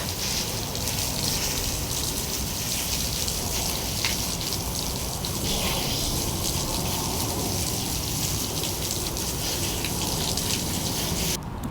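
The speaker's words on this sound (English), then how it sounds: "let me rinse this off" A steady gush of water rinses freshly harvested radishes, broccoli and kale close up, with a continuous splashing hiss and no talking.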